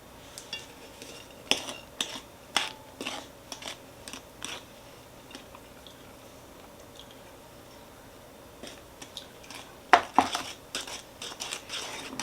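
Buttermilk and flour being stirred into sugar cookie dough in a bowl, heard as scattered clinks and scrapes of a utensil against the bowl with soft squishy thuds, close and fairly quiet, in irregular bursts.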